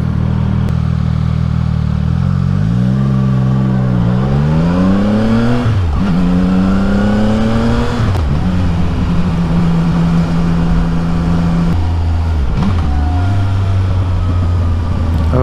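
A loud CF Moto 675 NK roadster engine revs repeatedly through its gears, the exhaust rising and dropping in pitch as it accelerates, heard close and continuous.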